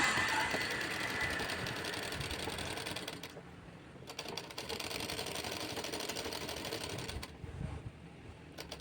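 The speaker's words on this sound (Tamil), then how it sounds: "அங்கே ஒரு தையல் போட்டுக்கலாம்" A sewing machine stitching a blouse: fast, steady mechanical whirring and clatter that pauses briefly twice and restarts, close and continuous with no talk.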